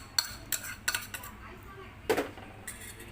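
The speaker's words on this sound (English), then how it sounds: "So first I'm gonna dump my shrimp." Shrimp tipped into a mixing bowl for homemade Filipino steamed siomai, giving a few sharp clinks and clatters of utensil against bowl, close and fairly quiet, spaced irregularly over a soft background.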